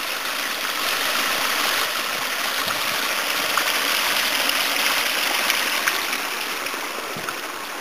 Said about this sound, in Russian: шумит ручей